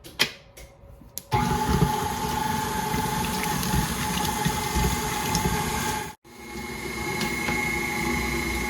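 An electric mixer whirs through dill pickle cupcake batter, switching on after a brief clatter, running as a steady close motor whine, cutting out for a moment, then starting up again.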